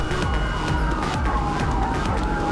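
A siren wails from an emergency vehicle, an ambulance in GTA V. The tone sweeps steadily and stays loud and close over engine rumble, with no talk.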